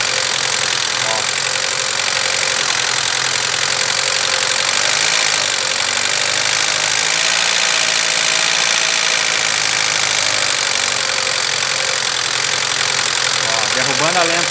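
Idling Chevrolet Vectra engine with an electrical fault, its irregular idle sagging and dropping lower, a steady loud running drone throughout with a voice talking over it.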